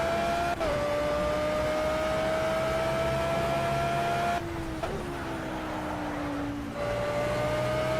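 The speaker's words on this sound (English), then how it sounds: "I'm like barely throwing this car into the corners." Race car in a video game holds a steady high engine whine through gear changes, the pitch dropping at each shift, with a continuous droning rumble underneath and no voices.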